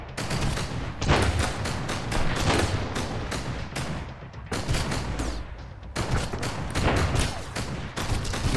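A heavy machine gun in the video game Sunkenland fires loud, rapid bursts close by, with sustained rattling volleys broken by brief pauses between the strings of shots.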